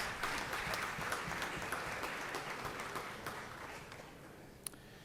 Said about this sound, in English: Let's give the Brass family a big round of applause.